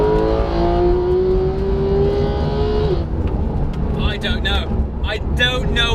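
A Porsche 991 GT3 engine revs from 6,000 to 9,000 RPM, a loud rising wail that climbs for about three seconds, then drops away into road and cabin noise with brief voices.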